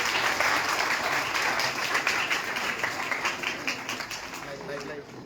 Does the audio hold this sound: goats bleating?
no